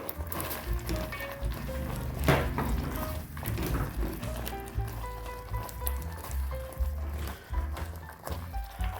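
Makhana (fox nuts) drop into a hot pan for paneer makhana masala, sizzling and clattering against the metal. Soft tonal notes play faintly behind the sounds.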